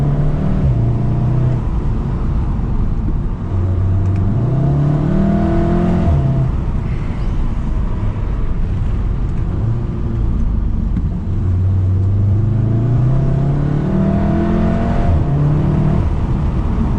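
A Volkswagen Golf R hatchback driven through winding turns in Japan, with a steady loud engine drone from inside the car that rises and falls as the gears and revs shift through the corners.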